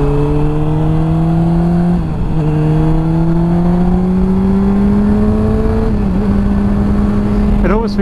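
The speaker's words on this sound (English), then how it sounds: "It definitely sounds much better than the stock exhaust" A sport bike fitted with an aftermarket exhaust runs loud and close, its engine tone climbing slowly through long steady pulls with a few brief shifts and dips in pitch.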